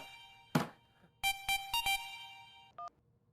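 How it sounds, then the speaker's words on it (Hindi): An electronic phone ringtone plays in short repeated bursts after a soft thump, fairly quiet and close, with no talking. "विभूति भैया को फोन आ रहा हुआ है, प्लीज"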